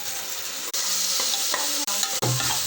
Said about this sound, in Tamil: இஞ்சி பூண்டோட பச்சை வாசம் போகிற வரைக்கும் நம்ம வதக்கணும்.